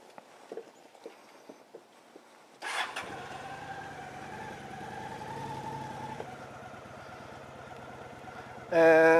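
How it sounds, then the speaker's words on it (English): A Honda Shadow VT750 DC cruiser motorcycle is heard after a few light footsteps and clicks: the engine starts and settles into a steady low rumbling idle, then a sudden loud rev bursts at the end. "I'm riding my cruiser motorcycle today. It's a Honda Shadow VT750 DC."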